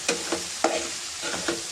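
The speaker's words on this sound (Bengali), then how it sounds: "এবার এটাকে ভালো মতো মিশিয়ে নিতে হবে গ্রেভিটার সাথে" Chili powder being stirred into an onion gravy in a pan for fish curry, with a soft continuous sizzle broken by several distinct scraping spatula strokes, close and clear, without talk.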